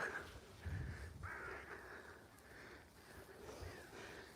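Crows cawing repeatedly at a moderate distance during a dog walk in Scotland, harsh calls overlapping over steady outdoor background noise.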